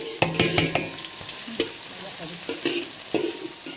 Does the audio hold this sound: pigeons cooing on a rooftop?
no